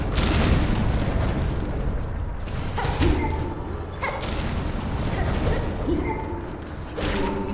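Enemy bursting apart in the video game Silksong, a few dull booms and whooshing impacts scattered over a dense, busy game soundscape with steady low rumble.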